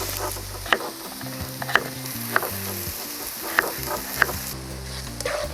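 Steady sizzling of onions and carrots frying in a pan, with a few sharp clicks of a utensil scraping and stirring at irregular intervals.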